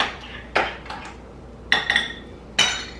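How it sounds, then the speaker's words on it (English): A whisk rattles against a bowl while roughly stirring brown sugar into dry ingredients for peppermint horse treats, giving four or five sharp clinking strokes spaced irregularly over a quiet background. "Just kind of give it a rough stir with a whisk"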